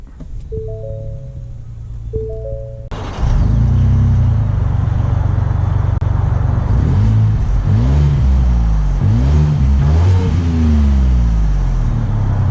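A 2019 Ford Expedition SUV idles with a few soft chimes before its engine surges into acceleration, a loud interior drone rising and falling through repeated gear shifts as it drives on.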